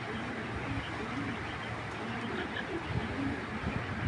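Racer pigeons coo softly at a pigeon farm in Bangladesh, low murmuring calls sitting faintly under a steady, noisy background hum throughout.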